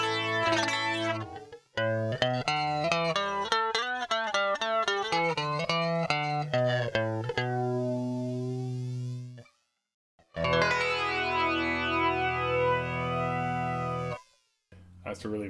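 Electric guitar runs through a rare Canadian effects pedal, playing loud, sustained chords and note runs with modulated, distorted tone, broken by two short silences.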